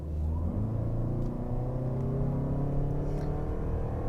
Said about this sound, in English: let's go ahead and test out what we can get 0 to 60 in this vehicle